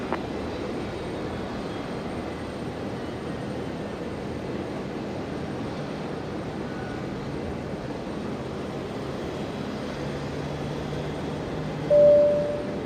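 Boeing 717, the last one built, landing at Brisbane Airport, heard as a steady broadband jet roar at a distance that holds level throughout, with a brief louder swell near the end.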